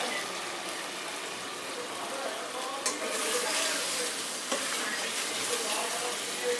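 Spices fry in oil in a pan for bhuna khichuri, a steady, moderate sizzle with a couple of sharp stirring knocks, close and without talk.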